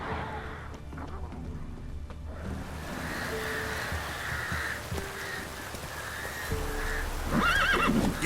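Roach the horse from the video game The Witcher 3: Wild Hunt gives a loud whinny near the end, after a stretch of outdoor ambience with cawing crows and faint hoof clops.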